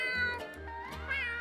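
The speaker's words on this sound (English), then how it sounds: "His meow is also higher pitched and sounds more like an actual cat's meow." Gary the snail from SpongeBob gives a single high-pitched, cat-like meow, a short rising-and-falling wavering cry, clear and fairly quiet, with nothing else around it.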